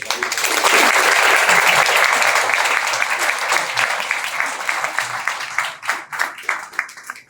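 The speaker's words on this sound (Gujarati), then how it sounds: "તો તમામ તાળીઓના ગડગડાટથી" Applause for teachers at a Guru Purnima honouring ceremony, a dense burst of clapping from a crowd that swells quickly, holds, then thins into scattered individual claps as it fades.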